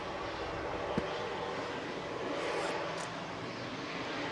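An EasyJet airliner coming in to land at Manchester Airport, a loud, steady broadband engine roar holding near-constant level throughout, with no talk over it.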